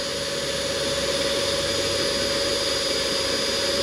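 A power sander runs on cured car lacquer that has blistered, a loud steady whine and rushing hiss held without a break the whole time.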